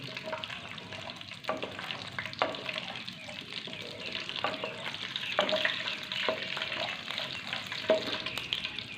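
Food frying in a pan in a desi home kitchen, a soft steady sizzle broken by regular clicks and scrapes of a stirring spoon, nearby and moderately quiet, with no one talking.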